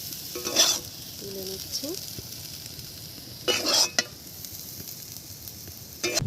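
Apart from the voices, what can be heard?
aloo posto (potato with poppy seed) frying and stirring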